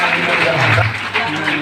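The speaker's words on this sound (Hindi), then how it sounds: "ताली बजाओ" A congregation at a Sunday Christian service claps together in a brief burst of applause, mixed with a voice speaking over it.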